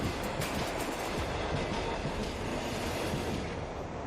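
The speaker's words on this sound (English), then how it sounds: "So that's me on this train." Train rolling along a busy city rail line beside a rooftop apartment, a steady broad rumble and rush held at an even level throughout, with no speech.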